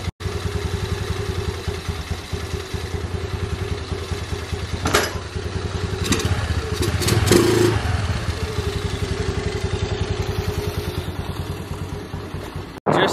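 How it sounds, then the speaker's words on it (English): A 2022 Honda Navi motorcycle fitted with a new intake runs steadily down the road, a close, continuous engine drone with brief clattering bumps and a rise in pitch partway through, alone without talk. "I'm gonna take it down the road and see how the intake performs."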